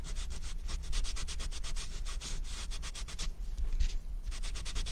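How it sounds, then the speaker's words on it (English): Embossing powder is rubbed onto paper in a card-making craft, giving a close, quiet, continuous dry scratchy rubbing with quick back-and-forth strokes and a brief pause near the end. "Maybe rubbing on the embossing powder."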